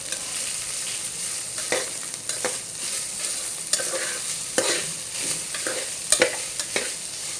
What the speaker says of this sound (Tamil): இப்போ இதை வதக்கின்னு இருக்க அம்மா